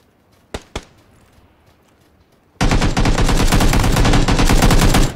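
Gunfire in the video game PUBG: two sharp single shots, then a loud, sustained burst of rapid automatic fire close by.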